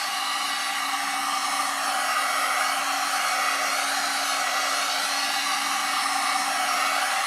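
A heat gun set on high blows steadily about five inches from a wood surface coated with torch paste, a constant close whooshing hum with a faint tonal whine and no talk.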